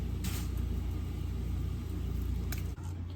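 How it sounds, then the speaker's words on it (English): A washing machine runs through a load of laundry nearby, giving a steady, loud low rumble and hum with a brief dip near the end and no talking over it. "I'm washing clothes, so it's loud."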